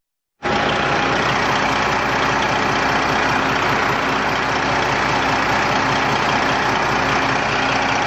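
A Detroit 12.7 diesel engine, just back together after exhaust and turbo repair, fires up and settles into a steady, loud idle that runs on without a break, with no talking over it.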